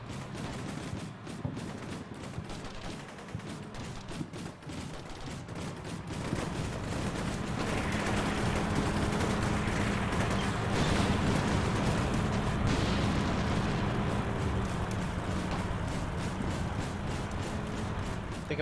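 Artillery fire for effect in the Combat Mission: Shock Force video game, a dense, continuous rumble of distant explosions and gunfire that builds midway and holds steady, with occasional voice radio chatter beneath.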